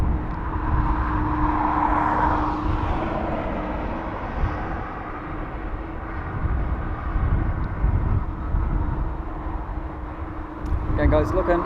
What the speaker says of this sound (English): here we have our Emirates all the way in from Dubai on a just over